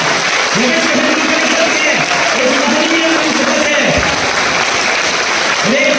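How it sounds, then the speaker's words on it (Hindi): Loud, sustained audience applause at a patriotic poetry gathering, thick and continuous throughout, with a voice speaking over it at times. "चलो तालियां बजा देना जोरदार एक बार, संकल्प की तालियां, शौर्य की तालियां।"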